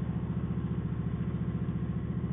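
A cruiser motorcycle engine runs at very high RPM with a steady, dense, throbbing drone that stays loud and continuous, with no voices.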